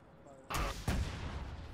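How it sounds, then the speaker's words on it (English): Two sharp, heavy blasts of rockets firing in a military video game, roughly half a second apart, each a sudden loud burst trailing into a rumbling decay. "Oh, rockets."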